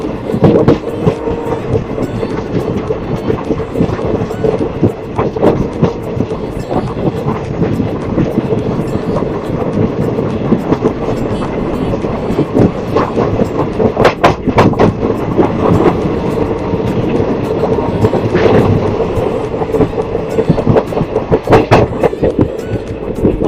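A passenger train, the Bikaner–Darbhanga Summer Special near Raxaul Junction in Bihar, gives a loud, steady rail rumble with scattered sharp clicks and clanks throughout.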